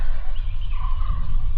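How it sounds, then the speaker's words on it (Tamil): Birds call loudly and close by in the Kolli Hills, in a short run of bubbling, gobble-like notes over a steady low rumble of wind. "பக்கத்தில் அடிக்கிற அந்த காற்று சத்தமோ அந்த பறவைங்க சத்தமும் தான் கேட்குது"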